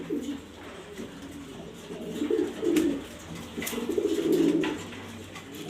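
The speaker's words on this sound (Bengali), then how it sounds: "দেখতেই পারতেছেন কবুতরটা ডাকতেছে" A grizzle racing pigeon coos nearby in several low, throaty, rolling bursts, with short pauses between them and no one talking.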